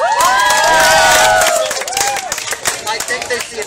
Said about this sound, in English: clap, applaud, and make lots of noise